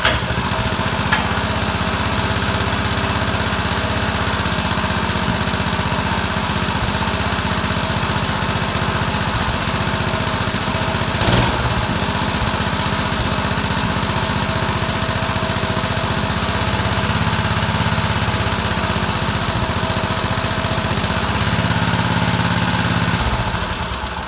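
A small go-kart engine with a recoil starter runs steadily close by, a loud continuous chugging drone with small shifts in pitch throughout.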